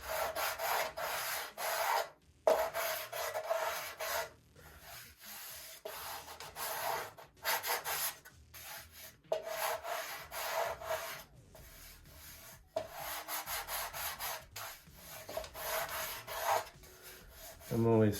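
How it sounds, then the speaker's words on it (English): Sandpaper rubs back and forth over the wooden bottom wing sheeting of a Top Flite P-40E Warhawk model plane, a steady rasping broken by short pauses, close and alone. "I'm only sanding that center section there"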